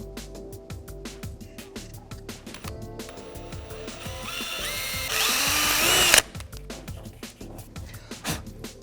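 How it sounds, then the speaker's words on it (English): A power drill whirs steadily through a pilot hole for a spoiler gurney flap on a Subaru BRZ, its pitch rising and straining near the end before it stops abruptly; faint clicking continues afterward. "So drill your first hole, just go slow and be patient."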